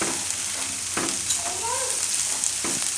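Green peas added to softened onion sizzle steadily in a hot pan, a close continuous frying hiss with a few stirring scrapes and clicks throughout.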